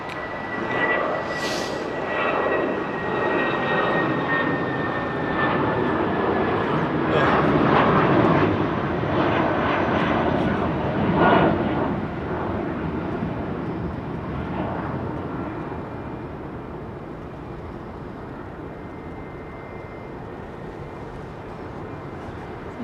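A Turkish Airlines Boeing 777 makes a touch and go at London Heathrow, its engine roar swelling loudly to a peak as it passes close, then slowly fading into a steady distant rumble.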